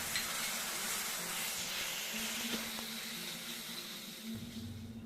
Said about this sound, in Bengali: অল্প জল দিয়ে সবকিছু এখন ভালো করে কষিয়ে নেব।